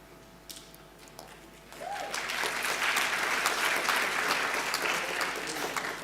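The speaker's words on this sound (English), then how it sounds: "Next time when you really want to clap, go for it." An audience at a chancellor inauguration bursts into applause after a quiet opening second or two, and the clapping stays loud, dense and sustained until the end.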